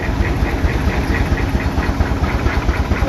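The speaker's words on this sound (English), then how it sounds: "We're trying to keep the engine going this weekend for them this weekend." An Advance-Rumely steam engine runs for threshing, chugging in a steady rapid knock with dense low rumble and mechanical clatter, loud and close with no voices.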